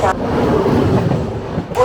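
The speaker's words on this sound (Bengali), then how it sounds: "এখন আমি রয়েছি খাজুরাহো স্টেশনে।" A train rumbles at Khajuraho station on a hot day, a steady low mechanical roar filling the brief moment, close and loud, with some human voice mixed in.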